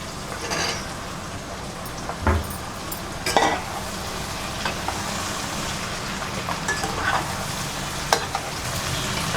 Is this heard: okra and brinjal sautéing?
yes